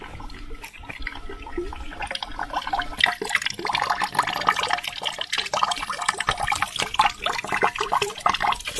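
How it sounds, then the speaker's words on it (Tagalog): A solar-powered water pump runs on a small farm growing bitter gourd, bell pepper and tomato, giving a steady splashing, gushing flow of water with irregular drips, fairly close and continuous with no talk over it. "Naka-on na yung aming water pump. Gamit lamang ay solar."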